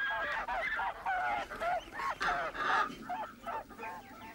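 Farmyard geese honking in alarm as the farm dog scares the poultry, a rapid, overlapping flurry of loud nasal calls from several birds, fairly close and continuous.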